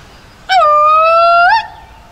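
A single loud, steady howling call of about a second, rising slightly at the end, made to imitate Bigfoot. It sounds like a voice imitating the creature and rings out alone.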